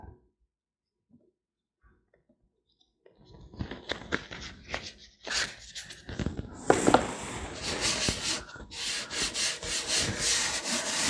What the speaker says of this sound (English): Just dry rubbing it.